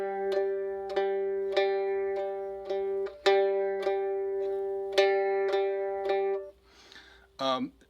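Bright plucked mandolin jig notes run in steady groups of three, the first of each group accented, ringing over a low drone, then scraping noise at the end.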